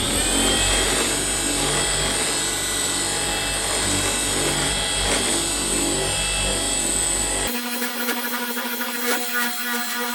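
A Milwaukee M18 dual-action orbital polisher runs at 3,000 RPM on car paint during overspray correction, a steady loud motor whine and buzz close up that changes tone abruptly near the end.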